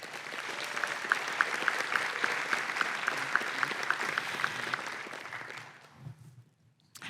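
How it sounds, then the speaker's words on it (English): An awards ceremony audience applauds a faculty mentoring award, a dense, sustained wash of clapping from many hands in a large room that fades out near the end, followed by a few faint sounds. "And another round of applause to our Faculty Award for Excellence in Mentoring Undergraduate Research and Creative Work winners."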